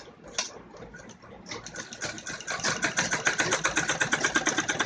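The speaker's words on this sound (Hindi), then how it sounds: "इसके बाद हम इसके ऊपर एक और सिलाई लगाएंगे।" A sewing machine stitching a seam on a child's romper, starting with a few hesitant bursts and then settling into a steady, rapid mechanical chatter that grows louder and runs continuously.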